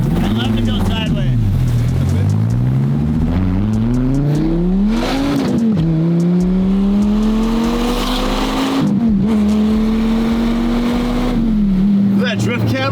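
A drift car revs hard while sliding sideways through corners, its engine note climbing and falling in repeated sweeps, loud and continuous with tire noise underneath and people talking over it.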